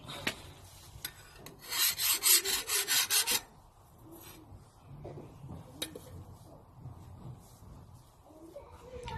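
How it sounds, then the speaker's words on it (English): A steel file rasps across a hardened, hand-forged knife blade in a quick run of about eight bright, rhythmic strokes, close and fairly loud, followed by quieter shop sounds. "the way generally to test its hardness is to use a file, and you should hopefully be able to hear a much higher ring"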